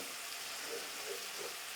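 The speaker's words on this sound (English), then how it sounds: "They are simmering." Vegetables simmering in a pan while an antelope curry is cooked, a faint, even bubbling hiss with a few soft burbles.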